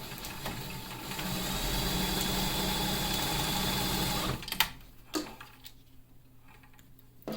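A sewing machine chain-stitching medical mask pieces runs in a steady rapid whir for about four seconds, then stops, leaving a few soft clicks and handling noises.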